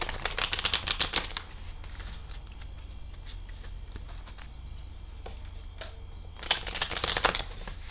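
Oracle cards are shuffled by hand in two quick bursts of crisp riffling and patter, close and distinct, separated by a quiet stretch of faint handling.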